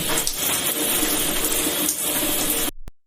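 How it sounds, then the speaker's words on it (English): A shower runs as a steady, loud hiss of spraying water for nearly three seconds, then stops abruptly, with no voices. "Let's take a shower."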